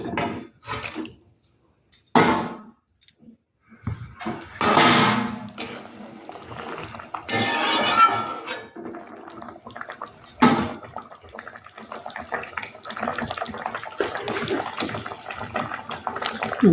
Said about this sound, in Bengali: এবার আমি মুটটাগুলো দিয়ে দেবো। মুটটাগুলো আমি দিয়ে দিচ্ছি।